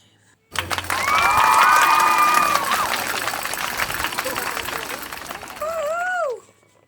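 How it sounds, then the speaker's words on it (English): A large Roman crowd cheers and applauds Caesar's victory, a dense roar of clapping and shouting that swells loudly and then thins, with whistle-like tonal sounds near the end. "The people don't listen, and they continue to celebrate, especially when Caesar and his entourage arrive."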